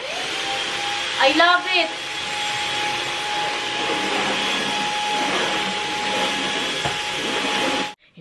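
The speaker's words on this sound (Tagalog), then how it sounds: "Ang ating bagong pa-vacuum. Kagaan niya. Ito yung galing sa Samsung." A new lightweight Samsung vacuum cleaner runs with a steady, loud whirring drone close by for several seconds before cutting off, while a voice speaks briefly near the start.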